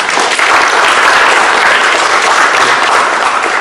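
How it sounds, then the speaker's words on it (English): Loud, sustained applause from an audience for event staff, dense steady clapping throughout with no talk heard over it. "So round of applause for all the staff."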